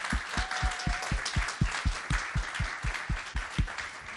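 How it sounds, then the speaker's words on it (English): Audience applause at a public event where the Vice President speaks in West Haven, Connecticut: a steady crowd clapping with dense, even rhythm, loud and continuous throughout, with no voices over it. "Can we please just applaud Rosa"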